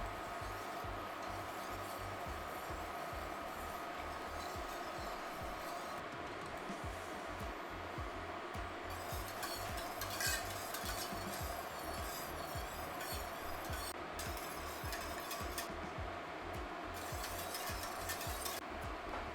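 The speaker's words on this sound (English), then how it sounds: "whisking and stirring gently and continuously" A whisk stirs condensed milk into milk in a pot, making faint, continuous rubbing and light clinking at a low, even level.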